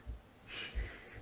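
A cat gives a single short, faint sneeze indoors, a quick breathy burst with a soft snort before it, close to the microphone and with no talking.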